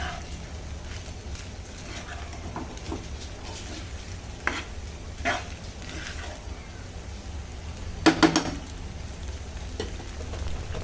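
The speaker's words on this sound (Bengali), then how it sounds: "এখন এগুলো খুব ভালো করে মিশিয়ে নিচ্ছি।" Chicken pasta with chopped capsicum being stirred in a pan, with a soft continuous sizzle, low hum and a few scraping clatters of utensil against the pan, one brief cluster of louder clinks toward the end.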